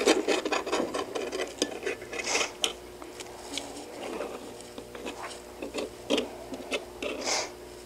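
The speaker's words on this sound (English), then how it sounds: "we're gonna just take, just trim the edges" Knife or blade trimming the edges of tart crust dough, giving a steady run of soft rasping, rubbing scrapes up close, with no talk.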